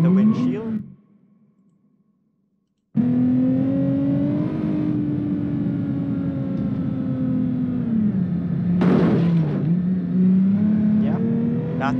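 A car in BeamNG.drive runs with a steady, droning engine note after a brief drop to near silence, then a sudden noisy burst of impact near the end with the engine continuing underneath.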